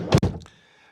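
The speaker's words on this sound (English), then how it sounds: "when you come to close the vehicle door" The door of an Adria Twin 640 SGX camper van on a Fiat Ducato base shuts with two quick heavy clunks close by, followed by a short fading rattle.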